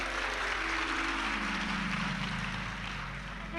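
A large audience at a Shiv Mahapuran katha gathering claps continuously, a dense, steady wash of applause that fills the space without a break.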